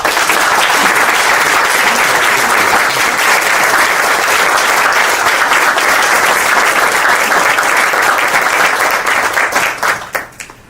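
An audience at a Minnesota Medical Association event applauds after a president-elect's acceptance speech, loud sustained clapping from a large crowd that fades out in the last second.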